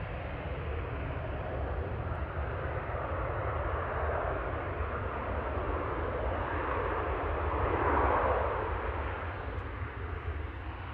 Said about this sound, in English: Ryanair from Budapest, touching down